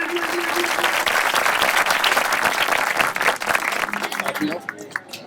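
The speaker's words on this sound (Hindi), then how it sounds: "जोरदार तालियां।" A crowd at a Gaud community Republic Day gathering breaks into loud, sustained applause that fills most of the moment before thinning out, with voices audible beneath the clapping.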